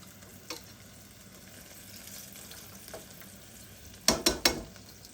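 Banana blossom pieces fry in a pan with a steady, quiet sizzle, and three sharp utensil scrapes come close together near the end as the pieces are scooped over.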